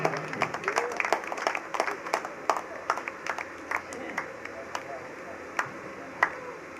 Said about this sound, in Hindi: तो इन दोनों के लिए भी जोरदार तालियां एक बार